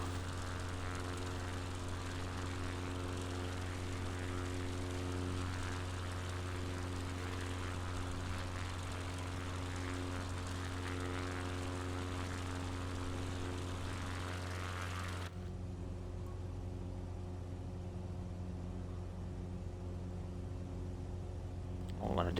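A propeller aircraft engine drones steadily while approaching Bournemouth airport on the UK coast. The hum is constant and tonal, then turns quieter and duller partway through.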